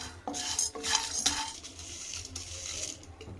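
Metal utensil clinking and scraping in a dry pan as mint, coriander and green chilies are roasted without oil, a few sharp knocks early on, then a steadier faint rustle.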